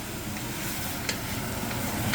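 Onions and celery cooking down in a pan for a pot roast sandwich, giving a dense, continuous close sizzle with a few faint stirring ticks and no speech.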